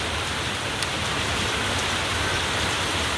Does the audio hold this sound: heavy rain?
yes